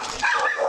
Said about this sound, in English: Watch that dog here.